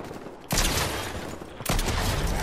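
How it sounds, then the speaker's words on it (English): Gunfire crashes out in the Fortnite video game in two sustained loud bursts of rapid shots, each starting abruptly, with dense noise in between and no voices. "More shots coming in."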